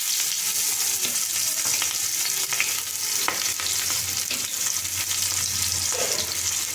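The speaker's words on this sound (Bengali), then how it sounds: "কড়াইতে সর্ষের তেল দিয়ে দিয়েছি, সর্ষের তেল গরম হয়ে এসেছে। এবারে তাতে আমি পেঁয়াজ কুচি দিয়ে দেব।" Chopped onion sizzles in hot mustard oil in a wok, a steady dense crackle with occasional scraping stirs and small pops, close up and without talk.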